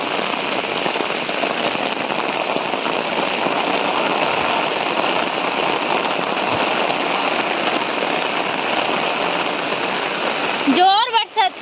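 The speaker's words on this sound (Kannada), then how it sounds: "ಜೋರು ಮಳೆ ಬಂತು." Heavy rain pours down in a dense, steady hiss that stays loud and unbroken for over ten seconds, with a brief voice breaking in at the very end.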